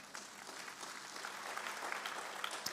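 Church congregation applauding during a sermon, a steady wash of clapping held at moderate level throughout, fairly distant and without speech over it.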